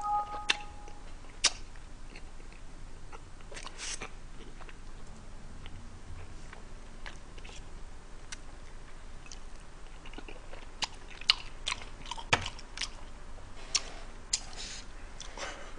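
Someone chews undercooked spaghetti noodles close to the mic, producing quiet crisp crunching and sharp biting clicks scattered irregularly over a low background, with no talking.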